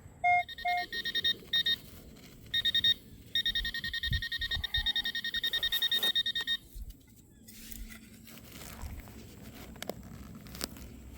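Metal detector sweeping a dirt rodeo ground in a local park, sounding a series of sharp, repeated high beeping tones in bursts, with scuffing and digging noises in between before the signal fades to quieter ground noise.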